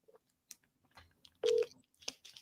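A phone call being placed gives brief, quiet electronic tones and clicks, with one short, louder tone burst in the middle, heard alone and close.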